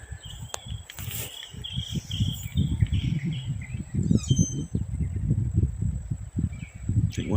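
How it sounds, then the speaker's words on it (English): A nightingale sings at a beach campground, with thin, repeated high chirps and trills over a steady outdoor rumble and what sound like footsteps nearby. "I think that's a nightingale"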